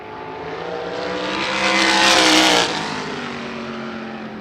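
A USAC race car laps the track, its engine swelling loud as it closes in, peaking in a roaring pass, then easing off as it moves away.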